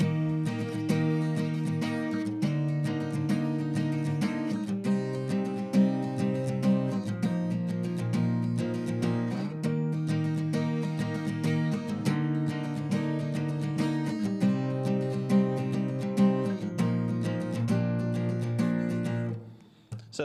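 Indie rock guitar part played with the last two strings barred by the pinky, a steady strummed chord pattern ringing continuously and loudly for about twenty seconds before stopping abruptly.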